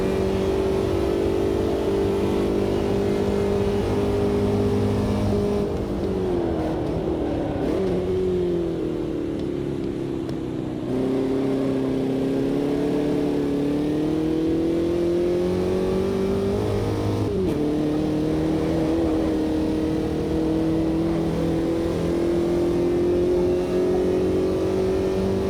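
A Formula Vee Gen2 race car engine in the racing game AMS2 drones steadily and loudly, its pitch sinking and climbing as it revs through gear changes and drafting, with no talk.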